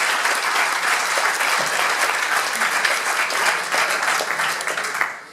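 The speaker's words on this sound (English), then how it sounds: "Give them a huge round of applause" A seated event crowd at a startup weekend gives sustained applause, dense and loud throughout, tapering slightly at the end.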